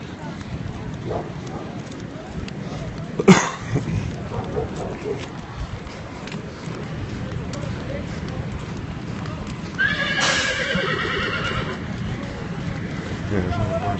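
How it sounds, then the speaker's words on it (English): Horses at a ranch stable fire moving about and whinnying, with a sharp loud neigh early and another cry later, set against a rumbling background of fire, commotion and people talking. "There's all the horses. There's more right there, Jeff."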